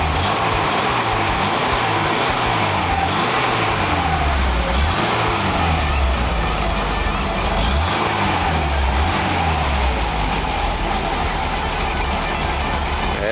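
A new Lada Niva 4x4 engine revs repeatedly, the pitch rising and falling in several cycles, loud and close and steady over the whole stretch with no talk.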